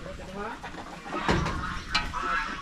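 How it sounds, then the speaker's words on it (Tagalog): Farm chickens clucking nearby in a dry-season yard where goats also graze, with a few louder bursts over steady background noise and someone talking. "Yung mga manok natin oh"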